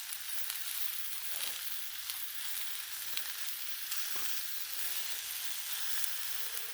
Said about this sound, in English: Turkey's making a lot of noise.